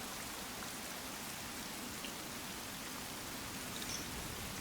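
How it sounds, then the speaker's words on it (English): Steady, dense rainfall from the video game Wild Hearts, a continuous hiss of drops on surfaces with no pauses, even and moderately loud throughout. "When this rain stops to ruin my sake, you and I need to share a drink or two."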